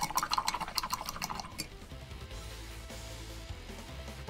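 A wet paint brush is rinsed in water after applying solvent and paint to model tiles, giving a burst of close splashing and dripping in the first second and a half, then a quieter watery wash fading into low background noise.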